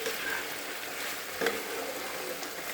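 Chili cauliflower frying in oil, giving a continuous soft sizzle while it is stirred, with one brief scrape of the spatula partway through. Close and fairly quiet, with no voices.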